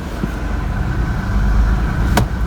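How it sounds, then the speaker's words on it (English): Toyota Camry V6 engine running at idle just after starting, following fuel rail repair, giving a steady, close, low mechanical rumble with a brief sharp click near the end. "let's see if it's gonna start"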